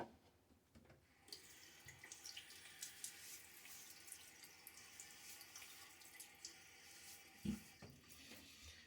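Tap water running into a bathroom sink while the face is wetted before a shave: a steady, soft splashing flow with small surges, quiet and fairly close, a brief louder splash near the end, no talking.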